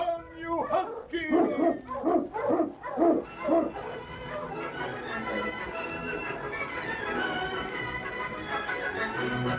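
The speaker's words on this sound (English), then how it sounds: "On King! On you husky" A husky barks and yips in a rapid burst of loud, rhythmic calls during a Yukon adventure radio drama, then gives way to a steady bed of orchestral music.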